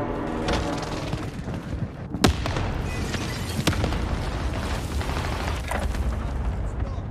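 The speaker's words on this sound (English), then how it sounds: "They were shooting RPGs and shit from above." Rocket-propelled grenade blasts in Call of Duty: Warzone on Fortune's Keep, a sharp boom near 2.2 seconds and another near 3.7 seconds over a steady din of battle noise and gunfire, with voices talking throughout.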